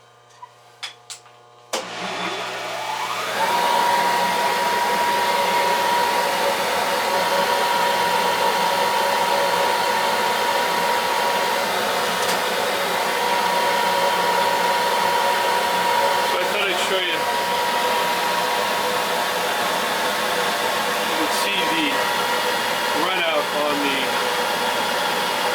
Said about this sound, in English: let me fire up the lathe